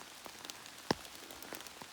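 Rain falling outdoors on a wet-day walk, a soft, constant patter with scattered individual drops ticking through it and one sharper, louder splat near the middle.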